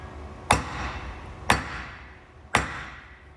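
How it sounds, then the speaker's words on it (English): A small 3-pound hammer strikes a truck part three times in an even rhythm, about a second apart, each a sharp metallic whack with a short ringing decay, close and loud. "we'll go with just this little hammer right now, this little 3-pounder"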